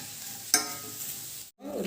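Chicken pickle sizzling in a pan as it is stirred, a scrape at the start then a steady bubbling fry, briefly cut off before the sizzle resumes; no talking.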